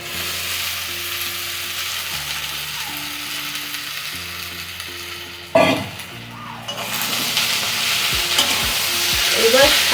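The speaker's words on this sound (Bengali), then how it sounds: "এবার শাকগুলো এর মধ্যে একটু নেড়ে নিচ্ছি।" Kalmi and sona leaf greens are stir-fried in a pan, giving a continuous sizzle with scraping, rattling stir strokes, a sharp clatter midway and louder frying toward the end, with no talk.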